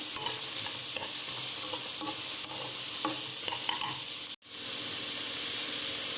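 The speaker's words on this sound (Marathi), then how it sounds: "तोपर्यंत कांदा भाजून घेऊयात आपण. छान असं लालसर भाजून घ्यायचं आहे." Chopped onion fries in oil in a pan, giving a dense, continuous close sizzle and hiss with light stirring clicks and one abrupt momentary dropout.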